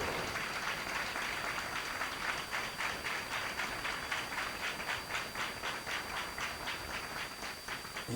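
A church congregation at a Malayalam Christian meeting applauds: a dense, steady wash of many hands clapping with a faint rhythmic pulse, continuous for several seconds, and no voices over it.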